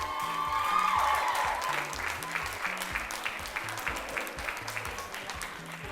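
A crowd applauds for the Notre Dame girls at the 2023 Onga Cook Art cooking competition finals. The clapping is dense and sustained, loudest at the start and then slightly softer, with no talking over it.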